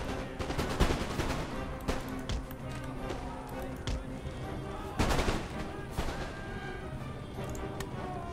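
Howitzer artillery and musket volleys crack through a battle in Empire: Total War, a strategy game. Sharp, booming reports recur irregularly, with heavier blasts near the start and middle, under steady talking.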